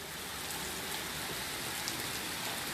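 Steady rain falls outside on a stormy day, a dense, even hiss of drops on surfaces with faint scattered patters, moderately quiet and constant without talk.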